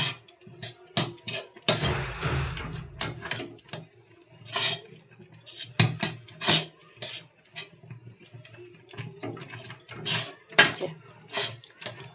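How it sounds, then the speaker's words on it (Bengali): Dhoka is stirred in a wok, making close metallic scrapes and clinks in uneven bursts, with a longer scraping stretch near the start and quiet speech between strokes. "কড়াইতে নাড়ব।"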